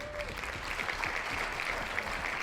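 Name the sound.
applause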